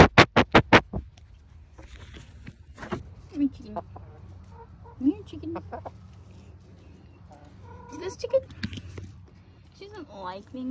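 A few sharp knocks open, then chickens cluck intermittently at moderate distance while a person talks over them.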